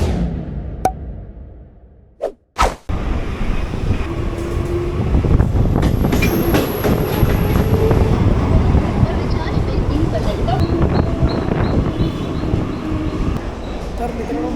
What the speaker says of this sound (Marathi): माझ्या पाठी तर बघू शकताय ट्रेन जाते